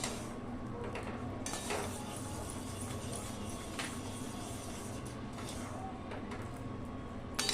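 Chira payesh, flattened rice pudding, being stirred in a pot, with irregular scraping and clinks of a spoon against metal over a low, steady simmering hiss.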